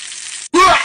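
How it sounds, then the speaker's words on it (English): A short burst of hissing sizzle from cheeseburger patties frying in a pan, cut by a brief gap, then a louder crackling sizzle. "Do you hear the sizzling?"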